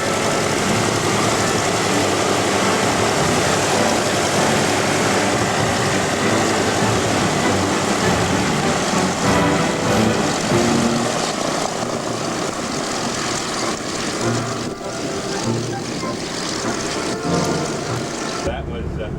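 Propeller engines of the B-24 bomber Diamond Lil at Norwich Airport roar loudly and continuously throughout, a dense, steady drone that eases slightly near the end.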